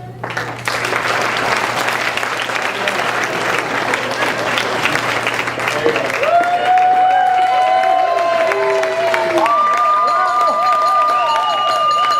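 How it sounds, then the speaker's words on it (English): Guests at a wedding reception break into loud applause and some cheering for the bride's parents, close and dense, with music and sustained tones entering partway through as the clapping continues. "A big applause for the bride's parents, Frank and Elizabeth."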